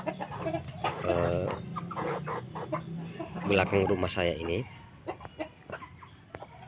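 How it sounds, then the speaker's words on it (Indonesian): Several chickens in a coop cluck and murmur close by in bursts, while a person speaks over them intermittently. "Dan ini keadaan kandang ayam saya"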